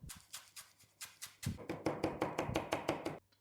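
A knife chops parsley rapidly on a cutting board, a steady run of close, crisp taps that speeds up after a short pause.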